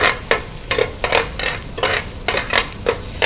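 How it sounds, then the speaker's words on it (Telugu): Green chillies frying in hot oil for a spicy avakaya fish fry, a close, steady sizzle with sharp, regular stirring scrapes from a spoon against the pan, and no one speaking. "కొంచెం పచ్చిమిర్చి వేసి ఇది కొంచెం ఇలా ఇది కొద్దిగా వేగనివ్వాలి."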